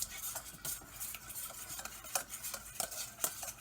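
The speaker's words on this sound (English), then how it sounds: "I like whisking." Eggs are whisked in a bowl for gluten-free pancake batter, making quick rhythmic scraping taps of a whisk against the bowl. The strokes come in regular bursts, close but fairly quiet.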